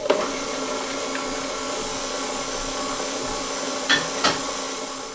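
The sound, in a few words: stand mixer running, mixing carrot cake batter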